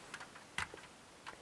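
A few sharp, faint clicks from the pins of an ATRA DR lever lock being picked, one crisp click standing out among softer ticks, with quiet pauses between them and no talk.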